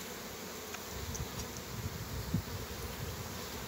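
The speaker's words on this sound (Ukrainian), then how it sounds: "Хороші, спокійні бджолки." Carniolan honeybees hum at a hive entrance in a steady, dense buzz close by, a continuous drone with faint clicks and no voices.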